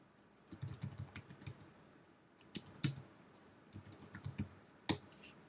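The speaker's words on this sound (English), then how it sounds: "I type in hello world." Close, quiet clatter of keystrokes on a computer keyboard, typed in two quick runs of taps with a short pause between and a final sharper tap, with no one talking.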